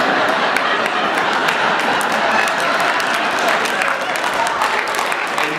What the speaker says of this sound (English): Dad, you are clapping way too much for Dad